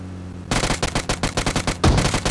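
Rapid automatic gunfire in PUBG Mobile, a loud close burst of quick shots in a tight rhythm after a brief quiet start, ending in a heavier low thump.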